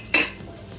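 Six garlic cloves go into a pan for crawfish étouffée, making a single sharp metallic clink of utensil on pan followed by a faint background hum.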